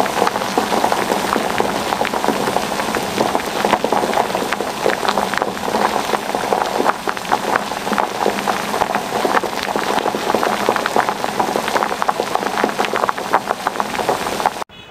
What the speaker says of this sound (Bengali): আর এখানে দেখছি আবারও বৃষ্টি চলে আসছে, কি ঝুমঝুম করে বৃষ্টি আসছে একটু একটু করে।